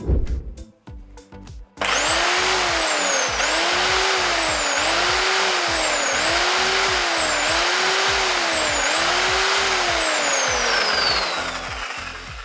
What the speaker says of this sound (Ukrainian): Наступний це ручний електричний інструмент з колекторним двигуном потужністю більше ніж 1 кВт.